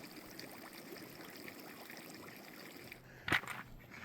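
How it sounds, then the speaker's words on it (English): Natural gas seeps up through water at an old coal-mining bore hole at Rauhala on Malcolm Island, making a steady, close bubbling and trickling wash. Near the end, a single sharp knock breaks through. "Out there, it looks like the water's boiling."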